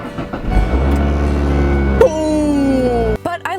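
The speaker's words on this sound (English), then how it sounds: "listen to our crazy car" An old, mechanically worn first car starting up loudly, a harsh roaring engine with rising whine and rattling that grows, then cuts off abruptly near the end.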